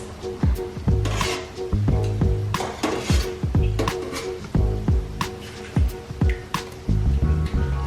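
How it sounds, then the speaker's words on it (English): Bakso meatballs drop one after another into a bowl of ice water, giving repeated close wet plops and squishes with small splashes, drips and light clinks at an irregular pace. "So I already prepared ice water and I'm gonna put the bakso in here."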